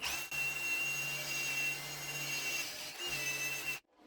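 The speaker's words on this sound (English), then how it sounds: "I've got a drill with a wire brush attachment" A handheld drill spins a wire brush attachment against rusty metal clamped in a vise with a cloth around it, a steady loud whirring scrub that pauses briefly, resumes, then stops abruptly.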